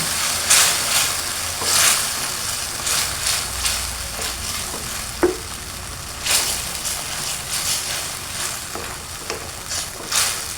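Fava beans being stirred into frying potatoes in a pan, with a steady sizzle under intermittent scraping strokes of the spoon and a few sharper clinks.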